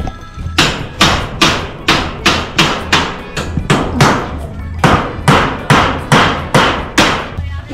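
Nails hammered into a house while it is readied for a typhoon: a loud, steady run of about a dozen sharp metallic strikes, evenly paced, with faint voices in the background.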